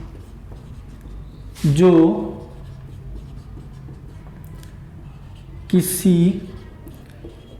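A teacher writes on a board in a Hindi science class, producing soft, steady scratching strokes, with two short bursts of speech breaking in.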